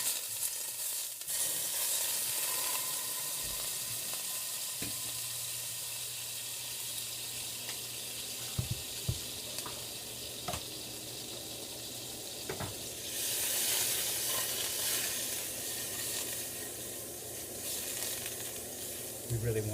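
Butter sizzling in a frying pan before eggs go in, a continuous close crackle and hiss with a few clicks and clatters, swelling louder near the end, with no voices.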